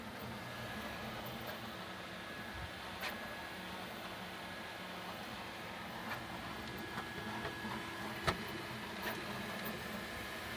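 An Elegoo Centauri Carbon 3D printer runs steadily at moderate distance, a continuous mechanical whir and hum with small clicks and ticks from its moving parts, and no one speaking.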